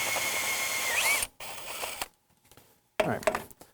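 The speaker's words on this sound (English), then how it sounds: "I just drilled a 1/2-inch hole in it" Power drill boring a 1/2-inch hole through the frame of an old Ford F150 truck: a loud sustained whine for about a second, cutting off, then short bursts of mechanical rattle with a pause of near silence between.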